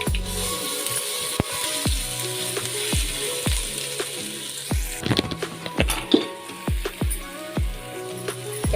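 Chili, ginger and garlic hit hot oil with mustard seeds and asafoetida, giving a steady close sizzle broken by repeated sharp spoon taps against the pan and scraping stirs.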